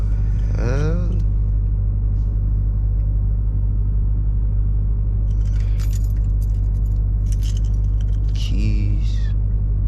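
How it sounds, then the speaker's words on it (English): Keys jangle in bursts inside a Dodge Durango Hellcat near Mexico Beach, metallic rattles heard over a steady low engine rumble and brief voices. "Keys."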